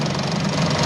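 Kawasaki AR80 motorcycle engine on a dry-run test fire with an original 1170 rod fitted, a steady close idle with a knocking, buzzy mechanical rattle filling the whole short moment, no talk.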